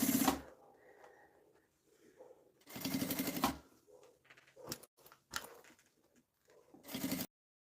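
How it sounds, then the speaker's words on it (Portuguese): A sewing machine stitches bias binding onto a fabric case in short, quiet bursts of rapid mechanical whirring separated by pauses, with a few faint clicks in between. "só costurar o viés"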